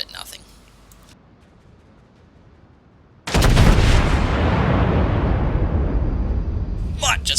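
Naval gunfire from a World of Warships battle, a battleship firing a heavy broadside: after a quiet stretch, a sudden loud blast erupts and rolls on as a long, sustained boom that slowly fades.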